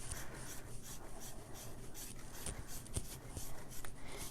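Chocolate is grated on a small microplane over a tiramisu, making a quiet, continuous scratchy rasp of repeated strokes that stay close and soft throughout.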